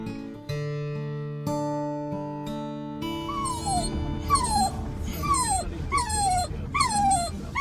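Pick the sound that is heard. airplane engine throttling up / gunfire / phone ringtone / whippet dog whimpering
whippet dog whimpering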